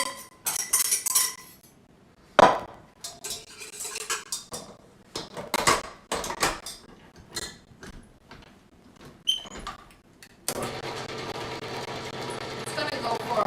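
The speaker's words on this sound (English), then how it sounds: "Get your whisk ready. And you want to beat it." A whisk beats heated solution into oil in a bowl, with clattering metal-on-bowl strokes that come in bursts, then turn into steady continuous whisking near the end, while a person talks at times.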